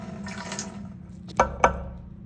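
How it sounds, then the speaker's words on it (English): Ethanol is poured into a container in a soft liquid stream, followed by two sharp knocks or drips close by. "That liquid I just poured into the container is ethanol"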